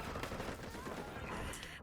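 Rapid AK-style rifle fire from the video game Delta Force, dense continuous crackling bursts filling the space, loud and close with the game's battle noise behind.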